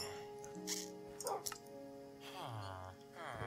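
A dog in the Minecraft video game gives short whimpers and yips, a few brief barks and whines over quiet background game tones.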